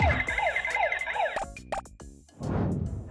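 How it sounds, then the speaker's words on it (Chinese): An electronic alarm siren blares on a weigh-in scale at a TV fitness show, a looping warbling wail for about a second and a half, followed by a few sharp tones and a burst of noisy crowd reaction. "我们的警报就会发出这样的声音"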